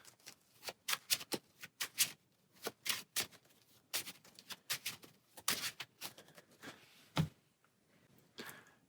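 Marvel Champions cards being shuffled back into the deck, a long run of quick crisp riffling bursts, close and fairly quiet, with no talk over them.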